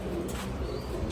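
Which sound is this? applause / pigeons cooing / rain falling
pigeons cooing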